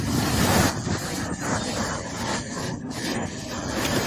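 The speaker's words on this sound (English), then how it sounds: "High waves hit a seawall." Heavy waves pounding a seawall during a storm, a loud continuous roar of surf and wind with repeated crashing surges and no lull throughout.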